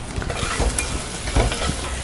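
Onions, mustard seeds and a little turmeric sautéing in oil in a pan for a potato stir-fry, a low sizzle under soft, irregular spoon scrapes and knocks, close by.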